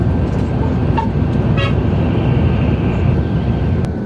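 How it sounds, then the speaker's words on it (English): A bus rolls past on a wet highway between Karachi and Rawalpindi in the evening, its steady roar filling the scene while a horn gives two short toots early on. "Here is another bus passing by."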